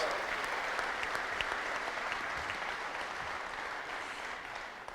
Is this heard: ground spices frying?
no